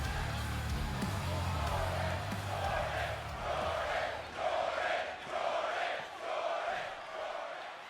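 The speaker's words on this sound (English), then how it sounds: "Hear the crowd chant Jordynne Grace's name." Video game arena crowd in WWE 2K26 chanting a wrestler's name in a steady repeated rhythm, each chant rising loud over a constant roar of cheering, with a low commentary voice underneath at the start.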